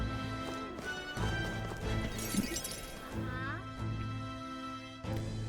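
A horse-drawn carriage clip-clops through a city in the video game Metaphor: ReFantazio, with steady hoofbeats mixed into game music and voices talking over them.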